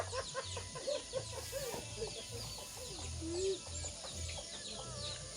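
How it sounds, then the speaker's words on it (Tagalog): Hens cluck and chatter steadily in a farmyard, with a low hum in the background and occasional faint voices. "Madaming manok."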